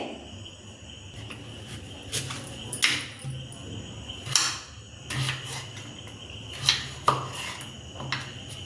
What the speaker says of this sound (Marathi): आधी डांगराचे काप करून घेऊ बारीक